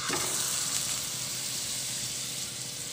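Butter pieces melting in a kadai over a low flame for homemade ghee give a steady, close, continuous sizzle and crackle with no voices.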